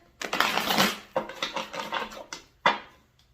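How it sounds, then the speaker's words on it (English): A deck of tarot cards being shuffled up close, with several crisp riffling bursts separated by short pauses. "let's give it a few shuffles before we get started."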